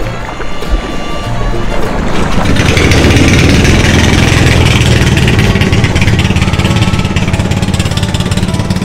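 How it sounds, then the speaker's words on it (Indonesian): Fishing boat engines run loud and close as fishermen set out to sea from a village in West Halmahera, a steady rough mechanical chugging that swells after the first second and holds, with a faint voice briefly underneath. "ini para nelayan sudah akan melaut, dan dari hampir setengah jam lalu mereka melakukan berbagai persiapan dan mesinnya sudah dinyalakan"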